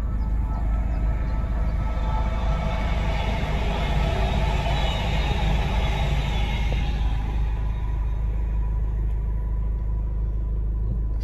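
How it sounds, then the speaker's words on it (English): A heavy, continuous rumble of a passing train fills the scene, loud and close, with a broad roar that slowly eases toward the end. "Train went past."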